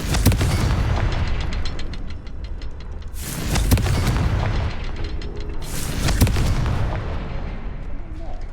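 Repeated booming blasts of the Confringo spell in Hogwarts Legacy, about three heavy explosions spaced a few seconds apart, loud and close over a constant rumbling game backdrop with occasional faint speech.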